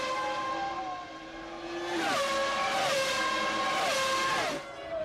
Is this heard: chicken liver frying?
no